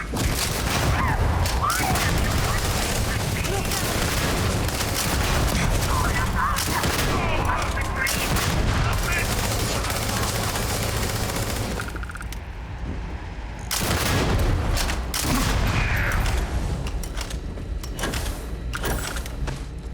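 Loud gunfire bursts and booming blasts from a shotgun and other weapons in the Starfield video game, in the Shattered Space setting, dense through most of the clip with a brief lull near the end, under an excited voice.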